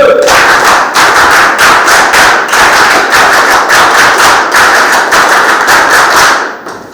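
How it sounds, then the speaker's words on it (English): A group claps for a candidate at a mock SSB interview, loud close-up applause with individual sharp claps in a rapid, uneven patter that continues steadily and then tapers off at the end. "Let's clap for him."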